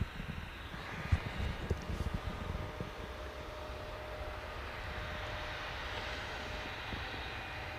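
An aircraft at Manchester Airport, a faint distant engine rumble and whine holding steady, with a few soft knocks near the start.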